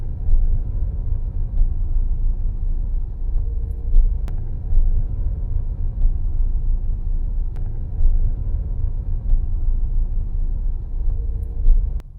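A car is heard from inside while driving on the road, with a steady, deep low rumble of road and engine noise throughout and faint ticks and creaks from the cabin.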